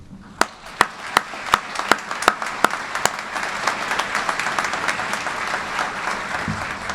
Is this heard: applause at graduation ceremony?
yes